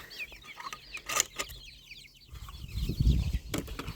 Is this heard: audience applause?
no